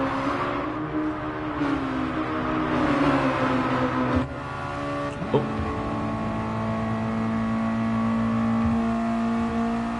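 Mazda MX-5 race cars in a championship round at Blue Moon Bay, engines droning and shifting pitch as they run close together in a slipstream, steady and fairly loud.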